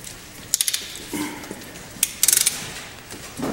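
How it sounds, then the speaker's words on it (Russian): A mechanic uses a ratchet to unscrew the guide pins on a car's brake caliper during brake pad service. Two short bursts of quick ratcheting clicks, close and crisp, are separated by a quiet pause. "В данный момент э, специалист снимает э, направляющие, откручивает направляющие"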